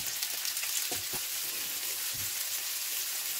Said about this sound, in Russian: добавляю оливковое масло и обжариваю болгарский перец